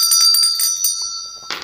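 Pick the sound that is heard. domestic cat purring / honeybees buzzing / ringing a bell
ringing a bell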